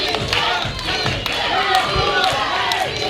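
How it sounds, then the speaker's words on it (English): A wrestling crowd at Area 506 roars and cheers loudly throughout, a dense wash of shouting voices with scattered claps and thumps from the ring. "Listen to this crowd."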